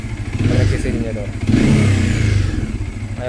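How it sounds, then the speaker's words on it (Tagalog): A Bajaj Dominar 400 motorcycle engine revs up twice with a rough, buzzing vibration, loud and close, while someone speaks over it. "Ayun o, may huling vibration pag nagsisilinyador."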